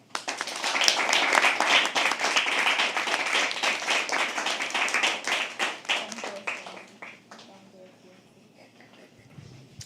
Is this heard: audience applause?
yes